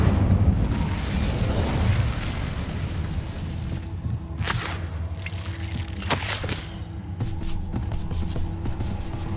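The Incendio fire spell erupts in Hogwarts Legacy with a loud, rushing burst of flame up front, settling into crackling, sputtering bursts and scattered pops.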